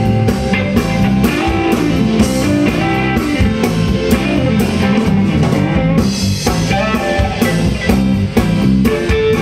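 A live band plays Detroit Motown-style music at an awards ceremony, a full, continuous and loud ensemble sound with a steady beat and no voices speaking over it.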